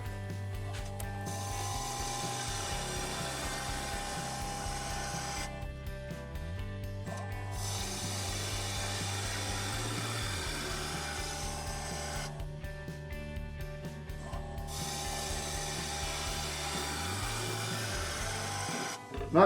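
Steady close scraping and whirring of a gouge cutting a wooden bowl blank spinning on a lathe as it is turned into a goblet, a continuous rough mechanical drone with a rhythmic ratcheting pulse that drops out briefly twice.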